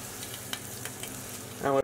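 A fresh knob of butter sizzles softly in a French omelette pan, a quiet, even hiss that swells near the end with a brief clatter.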